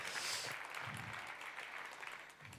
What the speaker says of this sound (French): on peut l'applaudir effectivement